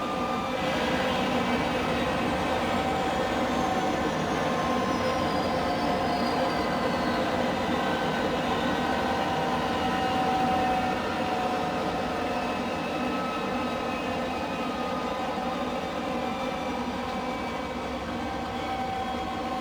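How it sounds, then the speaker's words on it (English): Twin engines of an H135 helicopter in Microsoft Flight Simulator run down after shutdown: a loud, steady turbine roar fills the scene while a thin whine glides slowly downward in pitch. "So both the engines are running down."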